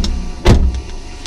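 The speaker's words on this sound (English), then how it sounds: "Shut the door." A car door on a Citroen C1 converted to run on LPG autogas swings shut with a single solid thump, close by and loud against a quiet cabin, followed by a few faint mechanical clicks.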